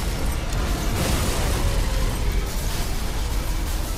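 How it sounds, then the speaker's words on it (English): Explosions rumble without a break through the Star Trek Elite Force II shooter, dense, loud and continuous, with no single blast standing out from the roar. "Will things please stop blowing up?"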